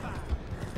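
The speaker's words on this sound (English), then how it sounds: "You can also kind of drift your horse as well" Horse hooves clip-clopping as a horse drifts through a sharp turn in the Red Dead Redemption video game, a quick run of low thuds at moderate level with faint voice underneath.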